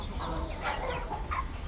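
Adolescent chickens, some likely young roosters, cluck softly in a winter coop, a steady low murmur of several birds with a few slightly louder calls rising briefly, no talking.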